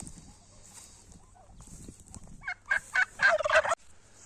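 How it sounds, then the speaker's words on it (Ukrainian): Black turkeys in a small farmyard flock gobble in several quick, loud bursts close by, following quieter rustling and faint calls at the start. "Чорний індик дуже гарний, активний"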